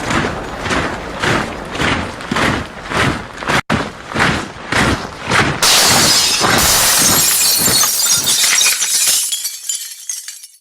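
Glass shattering and breaking repeatedly, a dense run of loud crashing impacts with clinking shards, followed by a sustained bright crash of falling glass that fades out near the end.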